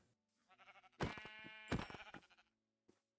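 Sheep bleating in Minecraft, a couple of close, clear bleats in quick succession followed by a short faint sound, with no talking.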